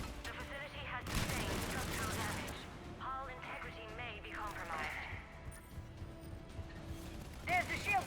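Rapid gunfire from Mass Effect 3 as a player shoots Cerberus turrets: fairly quiet volleys of shots rattle over game effects and mechanical noise, with bursts stopping and starting.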